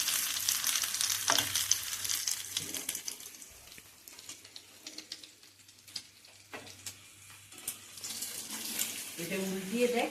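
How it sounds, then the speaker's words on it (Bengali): A Mughlai paratha fries in a pan with a close, uneven sizzle and crackle that swells and fades, with occasional clatter nearby. "এই যে এখানে ভাজতে দিয়ে দিয়েছি।"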